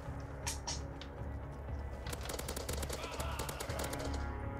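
Bursts of rapid automatic gunfire in a custom map of a shooter game, short rattling volleys after a couple of isolated shots, fairly close and loud over a low background hum.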